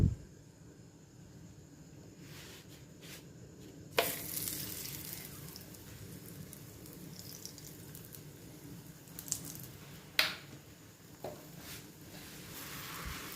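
Oats flatbread cooking in a little oil in a pan, a soft continuous sizzle with occasional sharper clicks and handling knocks, quiet and close with no talk.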